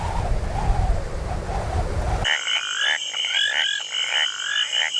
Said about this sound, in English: amphibians, namely frogs and toads, who are reputed to croak louder before rainfall